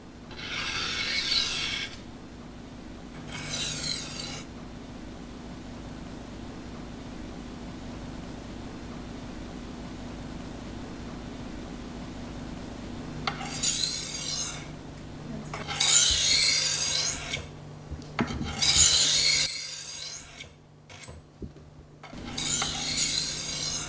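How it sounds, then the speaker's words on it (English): A European-style knife is stroked across a sharpening stone in several separate bursts of close, gritty rasping, with quiet gaps between the passes. "Place the guide toward the end of the stone and position the knife blade on the guide. Remove the guide and begin sharpening."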